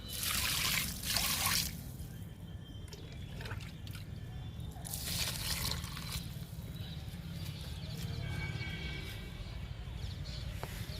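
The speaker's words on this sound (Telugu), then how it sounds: "లిక్విడ్ ఇస్తున్నా" Liquid fertilizer trickles and drips from a container onto a wilting potted rose plant, a steady close pouring with brief louder splashy bursts, no talking.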